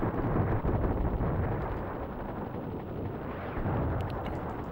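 Explosions and gunfire rumble from a helicopter attack in Desert Strike: Return to the Gulf, a dense, loud, continuous roar with booming bursts and no voices.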